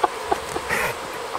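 A worn cooling fan whirs outdoors in a steady, fairly faint buzzing drone, with brief higher chirps rising over it.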